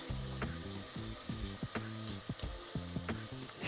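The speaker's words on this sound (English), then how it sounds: "We're going to add our chili, garlic, and our ginger to the pot. Give it a really good mix round." Chili, garlic and ginger fry in a pot while being stirred, a steady close sizzle with rhythmic scraping and knocking strokes of the spoon.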